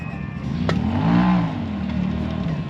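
An off-road car at the King of the Hammers event in Johnson Valley, California, sits stuck and high-centered while its engine revs loudly and close by in one swelling burst, then eases back to a rough idle.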